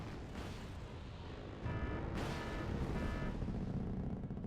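Bombs exploding in the Wargame: AirLand Battle war game, rumbling low blasts that swell and roll into a heavier sustained boom partway through, distant and dull with no voices.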